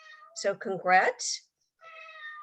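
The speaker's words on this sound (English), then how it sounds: "That's my cat saying hello." A pet cat meows a few times close to a microphone during a video call, with a short spoken phrase overlapping the meows.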